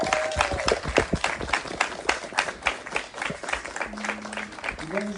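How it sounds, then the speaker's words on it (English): An audience at an outdoor 2021 graduation gives a round of applause, with distinct individual claps at a brisk, uneven rhythm and voices and cheers rising over it. "Everyone give them another round of applause"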